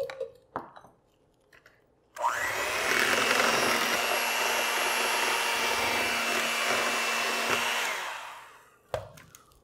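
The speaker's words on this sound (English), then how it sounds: "So now that we've got our wet ingredients in here, we're gonna give it a mixture." An electric hand mixer whirs loudly and steadily for about five seconds through keto donut batter of wet ingredients, starting and stopping abruptly, with brief clatter before and after.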